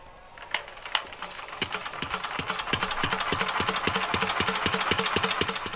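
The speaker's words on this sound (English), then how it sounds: "that's what I'll do now when I try to start it" A Petter A1 vintage stationary engine, throttle nearly closed, is hand-cranked and catches, its single-cylinder beats quickening into a steady, loud chugging rhythm with a clattering, knocking top end.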